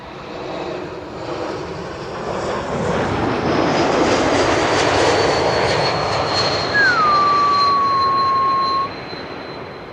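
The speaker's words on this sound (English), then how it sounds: "This is an E2 Embraer 195, KLM flight 1704, arriving from Brussels." A KLM Embraer E195-E2 jet landing at Schiphol produces a broad, sustained engine roar that swells and holds steady for several seconds before easing off slightly, heard from outdoors with a faint thin whine above it.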